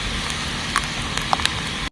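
Steady rain hisses throughout a slow motorbike ride on a wet road, with a few sharp drop ticks standing out against the broad wash of noise.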